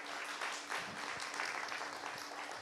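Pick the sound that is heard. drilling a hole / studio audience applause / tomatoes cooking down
studio audience applause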